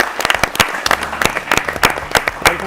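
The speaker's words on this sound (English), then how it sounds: "Let's clap for sir." A prize-giving crowd at a PCRA quiz show claps for an arriving guest. The claps are loud and sharp, with some standing out above a steady patter across the full stretch and faint talk underneath.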